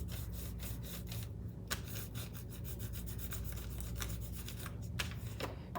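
A crayon rubs back and forth across paper in quick, steady strokes, a close, faint scratchy scraping that repeats without pause and with no talking.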